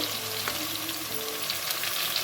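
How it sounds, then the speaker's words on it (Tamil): Small shallots sizzling in hot oil in a pan for a quail gravy, a steady close crackling hiss with faint spatters and no voices. "நல்லா பொரிஞ்சு வந்த உடனே சின்ன வெங்காயத்தை போட்டாச்சு"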